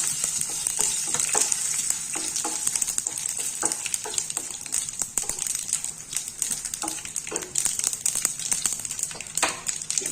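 Asafoetida, dried red chillies and urad dal roasting in a pan, a continuous close hiss of frying with rapid irregular ticks and scrapes of stirring throughout.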